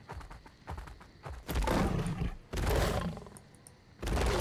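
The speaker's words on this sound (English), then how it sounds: "Oh, I heard another roar this way." Deep, rumbling creature roars from the survival game ARK: Survival Ascended, several loud broad bursts of growling noise with shorter thuds and rustles in between, no talk.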